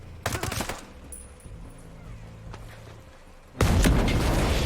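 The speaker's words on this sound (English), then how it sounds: "It's a mortar blast. It was able to go over buildings, around buildings, and hit the corner." A mortar blast in a loot shooter video game, with a burst of rapid gunfire, a low droning lull, then a sudden loud booming explosion that fills the end of the clip.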